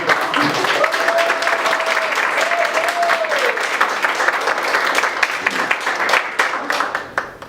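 A crowd applauds steadily for a child at a kid-for-mayor proclamation event, the clapping dense and continuous throughout, with a brief melodic whistle-like tone partway through and the applause thinning toward the end.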